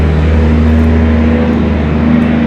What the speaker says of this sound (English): These trucks that pass by our street.